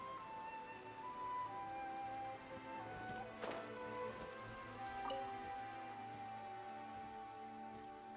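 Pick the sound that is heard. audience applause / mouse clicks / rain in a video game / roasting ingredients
rain in a video game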